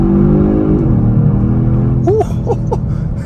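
A 2023 Kia Stinger GT2 on summer performance tires accelerates in second gear. The engine's droning note climbs steadily and loud, and a brief voice exclamation comes near the end.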